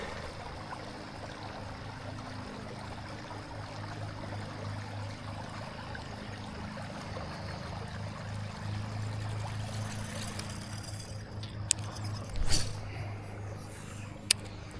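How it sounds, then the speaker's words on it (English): Cold water rushing down a dam spillway, a steady broad roar of flowing water from a short distance, with a few sharp knocks and handling noises near the end. "all the cold water is flowing down the spillway"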